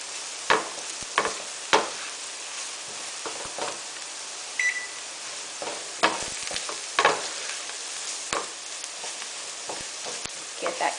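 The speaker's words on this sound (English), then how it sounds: "So now I'm going to add in the turmeric. And I'm going to stir that." Turmeric being stirred into golden fried onions in a pan for cabbage rice, a steady sizzle broken by scattered scraping clicks of the spoon against the pan, fairly close, with no talking.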